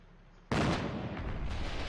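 An artillery gun in the war game Foxhole fires a single round, a sudden loud boom followed by a long rumbling roll that lingers and swells again briefly.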